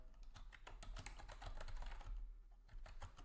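Someone types on a computer keyboard in quick irregular bursts of key clicks, close and clear, with a steady low hum in the background and no speech.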